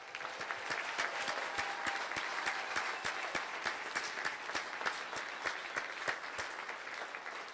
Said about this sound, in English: and Jim Holmes and John Williams with a final round of applause.